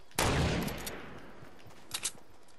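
Distant gunfire in a Fortnite match: one burst of shots at the start fading away, then a short pair of quieter shots near the end, fairly faint with no talk.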